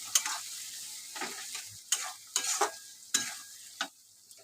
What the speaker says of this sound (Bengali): টমেটো দিয়ে আমি ভালো করে কষিয়ে নেব।